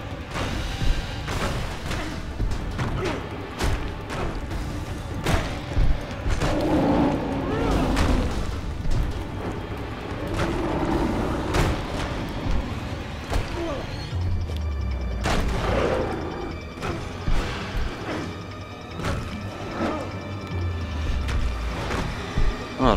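Explosions in the video game Prototype erupt as repeated sharp booms and crashes amid steady mechanical rumble and clatter, spread across the whole stretch at moderate loudness.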